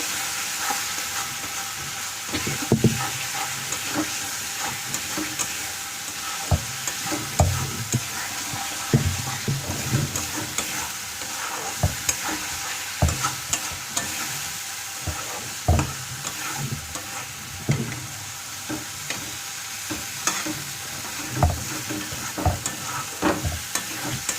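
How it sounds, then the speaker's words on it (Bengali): Garam masala sizzling as it is stirred in a kadai, with repeated scraping and clatter strokes over a steady frying hiss, close and continuous with no talking. "গরম মশলাটা দিয়ে কিছুক্ষণ নাড়িয়ে নেব।"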